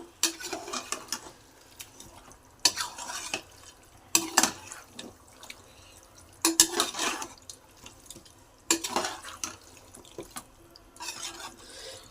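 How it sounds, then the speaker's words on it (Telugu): Farm chicken and turmeric powder being stirred in a pot, heard as intermittent wet scraping strokes in separate bursts with quieter gaps between them and no talking. "ఇందులో పసుపు పొడి వేసుకున్న తర్వాత బాగా కలుపుకుందాం"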